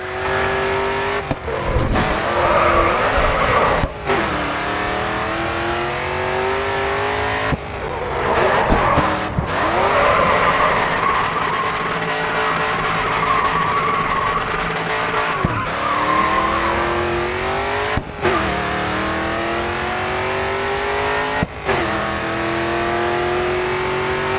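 A race car in the game Grid 2 spinning and skidding, loud engine revving with tires squealing in long sweeping slides, broken by several abrupt cuts, with no voices.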